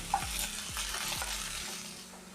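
Sliced onions and green chillies fry in hot oil in a home kitchen pan, a steady close sizzle with a few soft scrapes of stirring, no voices.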